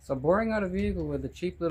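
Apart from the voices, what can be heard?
None of the usual background noises is heard.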